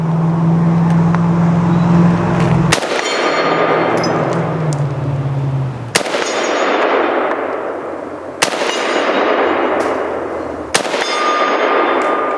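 An AK rifle fires single shots outdoors, four loud sharp cracks spaced a few seconds apart, each trailing a long ringing echo over a constant background rumble, with no talking.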